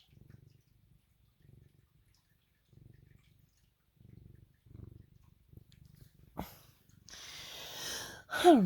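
A cat that has just been given catnip purrs close by in soft rhythmic bursts, then a rustle is followed by a short rising meow at the end.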